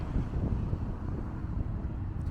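Strong wind buffeting the microphone at Winnats Pass on a windy UK day, a loud continuous low rumble throughout with no voices.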